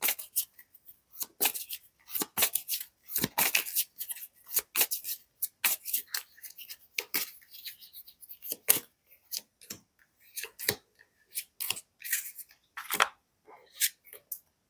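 Oracle cards shuffled and drawn during a card reading, a close run of crisp papery flicks and snaps in uneven, rapid bursts with short pauses between.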